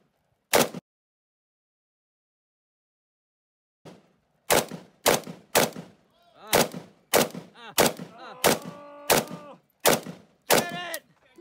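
Beryl wz.96b rifle firing: one sharp shot, a long silence, then about ten loud, close reports in a quick, fairly even rhythm, each with a short ringing tail.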